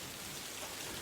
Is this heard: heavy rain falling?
yes